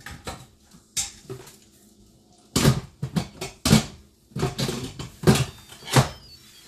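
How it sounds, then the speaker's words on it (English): A pot lid being closed in a home kitchen while cooking chicken teriyaki with rice: a series of close clattering knocks and hard thunks in uneven bursts, with no talking. "Close the lid."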